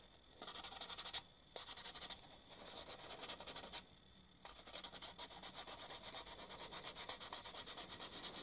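Hand sanding of a small part for a 1:48 scale Fiat CR-32 aircraft model: quick rhythmic scratchy rubbing strokes, close and fairly quiet, with two short pauses and a faster stroking run toward the end.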